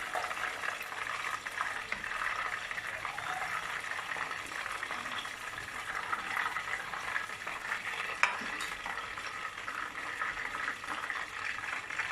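Stuffed meatballs (içli köfte) frying in oil, with a steady, crackling sizzle that runs on without a pause and no voices.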